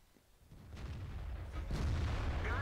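A tank shell explodes in the video game World of Tanks, a deep rumbling boom that swells and then holds as a heavy, lingering roar close by.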